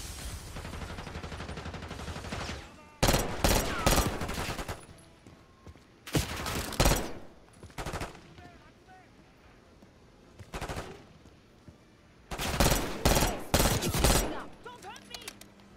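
Gunfire in the video game Call of Duty Black Ops 6: loud clusters of rapid automatic bursts separated by quieter gaps, with voices occasionally heard between them.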